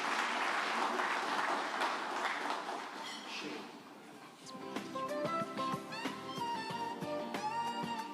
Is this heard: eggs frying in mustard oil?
no